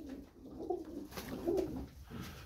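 Kuwaiti black-wing pigeons coo softly in repeated low, rolling calls, close but faint, with no talk.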